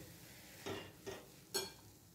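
Maharashtrian dry shrimp (sukat) chutney is sautéed in a pan: three soft spatula scrapes, spaced a fraction of a second apart, over a faint steady background.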